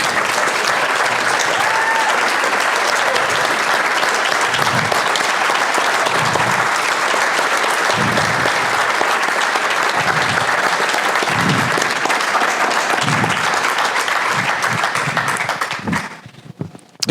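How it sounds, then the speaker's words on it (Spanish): Loud, sustained audience applause fills a book presentation event in Costa Rica, steady dense clapping from a large crowd that fades out near the end. "Recibamos con un fuerte aplauso"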